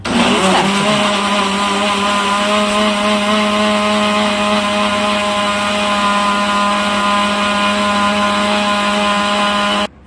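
Kitchen mixer grinder pulverising chillies, tomatoes and ginger into paste: a loud, high motor whine that spins up in the first second, holds a steady pitch for about nine seconds, then cuts off abruptly.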